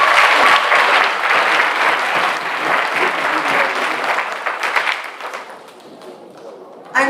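A graduation crowd at a Wallace Community College adult education ceremony gives a loud, sustained round of applause that thins out toward the end, followed by a final burst.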